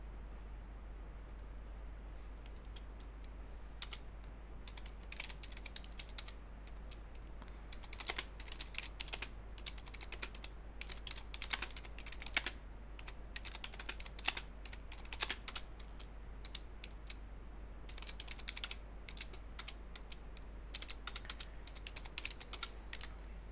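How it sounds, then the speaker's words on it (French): Steady typing on a computer keyboard, with irregular bursts of sharp key clicks over a low hum, close and moderately quiet, with no talking. "Oh, ce clavier, j'en peux plus"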